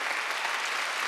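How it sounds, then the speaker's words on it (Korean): Church congregation clapping hands together during a Sunday worship service, a dense continuous wash of applause from many people, loud and even throughout. "박수 좀 세게 치면 안 돼?"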